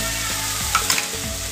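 Turmeric, cumin and chili powders are stirred into hot oil for rajma masala, giving a steady close sizzle with soft scraping stirs over it.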